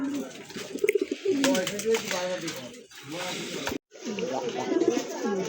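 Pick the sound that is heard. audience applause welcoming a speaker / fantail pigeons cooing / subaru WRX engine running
fantail pigeons cooing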